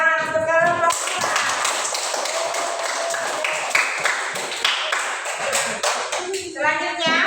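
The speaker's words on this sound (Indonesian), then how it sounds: "tepuk tangan untuk kelompok 2" A classroom of students claps for a group, a burst of brisk overlapping hand claps that runs for several seconds after a teacher's voice, then fades as talking resumes.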